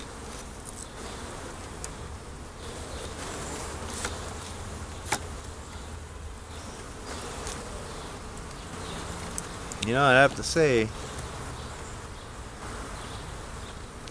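A steady, close drone of honeybees fills the air around an open hive during an inspection. A person speaks briefly near the end.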